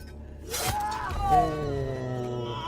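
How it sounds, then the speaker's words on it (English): Glass shatters in one sudden, sharp crash during a bomb episode of the TV drama The Family Man, set against a swelling musical score and voices. "Is that glass?"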